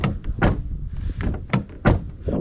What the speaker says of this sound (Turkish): O kadar kötü değil aslında kapı kapama hisleri.